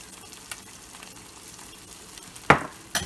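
Eggs frying in a new cast iron skillet, a soft continuous sizzle with a few sharp crackles and pops, the loudest near the end, close by with no talking.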